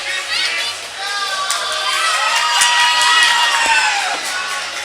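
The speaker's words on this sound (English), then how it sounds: "Going to get some cheers and jeers in return." A crowd at a U15 AA hockey game between the Glace Bay Miners and County Islanders shouts, whoops and jeers, loud and sustained with youthful voices swelling and fading across the arena.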